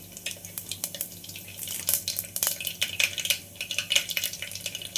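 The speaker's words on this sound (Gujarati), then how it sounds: "થોડીક રાઈ ફૂટી જાય" Mustard seeds and cumin spluttering in hot oil while a Gujarati stuffed brinjal curry is being cooked: a steady close sizzle broken by frequent sharp pops and crackles, with no voices.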